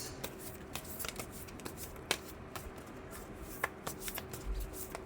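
Tarot-style moon cards being shuffled by hand, a steady run of soft riffles and sharp card snaps, close and quiet with no talk.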